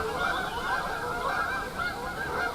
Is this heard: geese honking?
yes